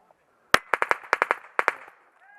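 Airsoft guns firing during an outdoor game, about a dozen sharp snapping shots in two quick bursts over roughly a second and a half, crisp and fairly close, with quiet surroundings before and after.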